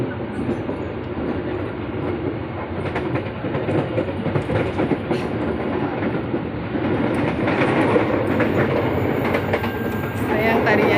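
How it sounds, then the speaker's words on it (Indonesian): A packed commuter train sits at Bogor station about to depart, its deep rumble and rattling close and steady, swelling louder toward the end with faint metallic squeals and scattered background voices. "Mungkin sebentar lagi keretanya mau berangkat"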